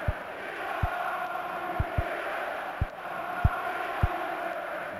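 Crowd noise from an Atari Jaguar sports video game: a steady synthesized stadium roar with a few sharp low thumps scattered through it, no voices speaking.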